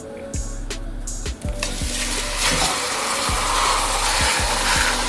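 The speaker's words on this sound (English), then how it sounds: "We just wanna get a nice sear, build some nice fond on the bottom, get a nice crust on our meat" Beef searing in hot olive oil in a Dutch oven for pot roast, a steady loud sizzle that swells as the meat settles in, with clinks and scrapes of handling at the start and a low regular hum beneath.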